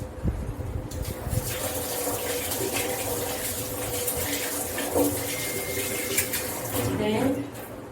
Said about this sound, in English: Whilst I do that, I'm going to wash my hands.